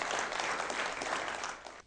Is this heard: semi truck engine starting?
no